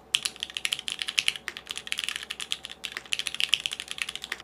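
Fast, continuous typing on a custom mechanical keyboard with Cherry switches, crisp close-up clacks in quick irregular bursts with brief pauses, no voices.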